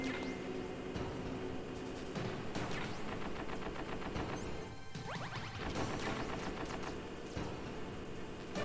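Gunfire from a boss's big gun in the Metal Gear Solid video game, a loud, dense run of crashing shots and impacts that keeps going for the full stretch with only a short dip partway through.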